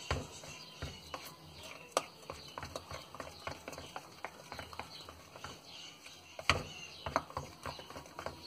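Homemade bonsai healing paste is worked and mixed by hand, giving soft, irregular wet taps and scrapes, fairly faint and close, with a sharper knock now and then.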